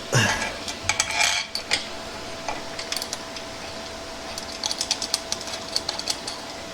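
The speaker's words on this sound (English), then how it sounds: "Screw everything in." Parts being screwed in with hand tools during a Surron Ultra Bee electric dirt bike TORP TC1000 install: close, crisp ratcheting clicks come in quick bursts, with some metallic clinks and no talking.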